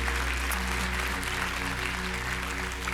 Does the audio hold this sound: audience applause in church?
yes